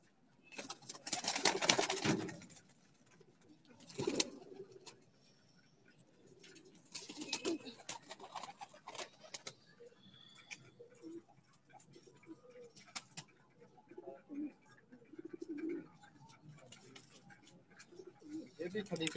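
Pigeons on a rooftop give soft cooing among bursts of wing flaps and clatter, with rustling and people talking throughout.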